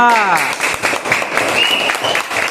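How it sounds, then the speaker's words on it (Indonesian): A classroom of schoolchildren claps for a group, dense rapid clapping that starts after a brief voiced tone and continues evenly and fairly loud throughout. "Tepuk tangan untuk kelompok 2."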